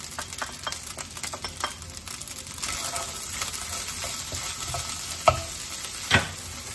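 Carrots and sweet corn stir-fry in a hot pan for fried rice, with a steady sizzle and repeated scraping and stirring, plus a couple of sharp clinks from the utensil.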